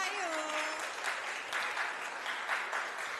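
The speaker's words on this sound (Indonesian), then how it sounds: "Tepuk tangannya juga." Audience applause at a university public lecture event in an auditorium, a steady dense wash of clapping that fills the whole stretch at moderate level, with a brief whistle-like tone early on.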